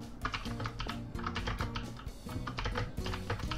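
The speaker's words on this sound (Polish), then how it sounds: "Sorry za hałas, jeżeli chodzi o moją klawiaturę." Rapid clacking keystrokes on a mechanical computer keyboard, a dense run of close, quiet taps with an uneven rhythm during Minecraft play.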